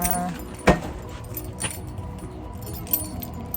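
Keys jangle with a sharp metallic clink near the start and lighter rattles after, over faint car and road background noise during a family outing.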